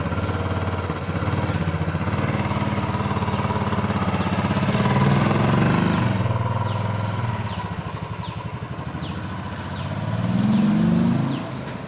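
Royal Enfield Classic 350 BS6 motorcycle engine running nearby, a loud continuous thumping idle with a couple of swelling revs, no voices.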